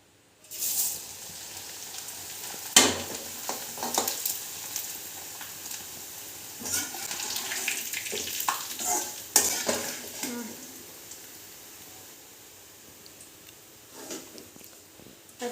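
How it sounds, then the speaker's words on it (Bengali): Flattened rice (chira) being fried in a pan, with a steady faint sizzle under repeated scraping and clinks of a utensil against the metal pan as it is stirred. "এখন চিড়া ভাজা ভেজে নিচ্ছি"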